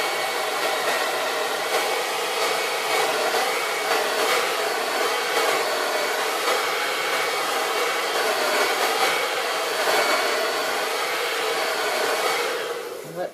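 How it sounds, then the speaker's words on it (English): A blow dryer drying mixed media paint runs continuously at close range, a loud steady whooshing roar that cuts off at the very end. "I'm going to take the blow dryer again and dry it."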